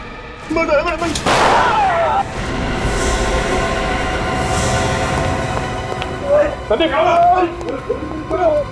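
A sharp gunshot cracks out amid loud, chaotic background noise in a Hindi TV crime drama scene, with agitated voices shouting before and after it.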